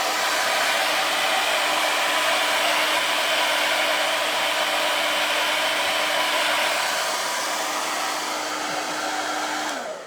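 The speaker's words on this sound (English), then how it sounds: "today I just have a hair dryer" A hair dryer runs steadily on its high setting, a loud close whooshing roar with a faint motor whine, continuous for about ten seconds before cutting off at the very end; no talking.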